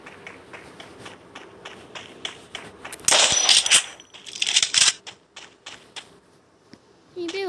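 Gunfire in the Free Fire mobile battle royale game, a series of sharp shots followed by two louder, denser bursts in the middle, with quieter taps around them.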